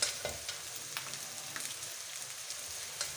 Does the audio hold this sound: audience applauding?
no